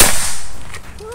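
A sharp shot from a Bocap Black Army Phantom PCP air rifle, Predator full-CNC model, loud and close at the very start, decaying quickly into a short hissy tail.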